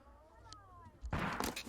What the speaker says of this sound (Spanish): Aquí hay un balazo.